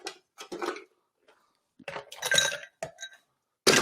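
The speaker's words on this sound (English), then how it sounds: "Now we'll just go ahead and add some ice." Ice cubes clink and rattle into a cocktail glass in several close, sharp bursts separated by brief silences, ending with a louder clatter.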